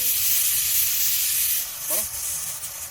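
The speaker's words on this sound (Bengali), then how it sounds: "একটা সিটি পড়লো," A pressure cooker cooking goat meat outdoors in a village garden lets off steam, a continuous bright hiss running the whole stretch at steady strength, with a faint voice heard briefly.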